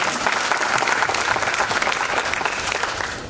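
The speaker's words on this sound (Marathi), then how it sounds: "त्यांच्यासाठी एकदा जोरदार टाळ्या वाजवूया" Applause from an audience at an award ceremony in Mumbai, a loud dense burst of clapping that holds steady and then starts to fade toward the end.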